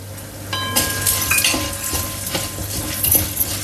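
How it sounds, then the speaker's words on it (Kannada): Toor dal being dry-roasted in a pan on low flame: a faint crackling fry under repeated metallic scrapes and clinks of a spatula against the pan, close and fairly loud, without talk. "ಈಗ ಎಲ್ಲ ಪದಾರ್ಥಗಳನ್ನು ಸಿಮ್ಮಲ್ಲೇ ಹುರಿಬೇಕು"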